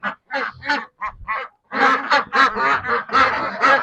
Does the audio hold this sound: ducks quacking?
yes